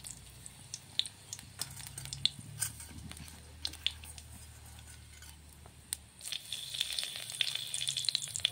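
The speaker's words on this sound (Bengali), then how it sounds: "আমি এখানে 2টো শুকনো লঙ্কা কেটে নিয়েছি, এগুলো তেলটাতে দেবো।" Two cut dried red chillies sizzle in hot oil for a vegetarian cabbage-greens fry, a steady low crackle with scattered sharp pops that thickens and brightens toward the end.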